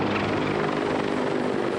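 A military helicopter roars close and loud, its rotor producing a dense, steady thumping throb that fills the whole moment with no voices.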